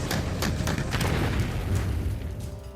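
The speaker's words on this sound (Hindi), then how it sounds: "भारतीय तोपों से निकलते ये आग के गोले चीन की बर्बादी की इबारत लिखने वाले हैं।" Indian artillery guns firing, heavy booming blasts layered into a dense, continuous rumble with sharp repeated bursts, loud and sustained throughout.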